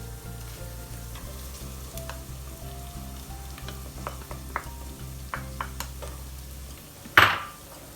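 Red lentils, bulgur and rice are stirred in a pot while frying for Ezogelin soup, with a low sizzle beneath repeated scraping strokes of a spoon, a few light clinks, and a louder clatter near the end.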